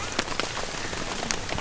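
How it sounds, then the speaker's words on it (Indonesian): Light rain patters steadily on a mountain trail at a rest post on Mount Ciremai along the Apuy route, a soft, faint hiss with scattered drops. "sekarang lagi hujan"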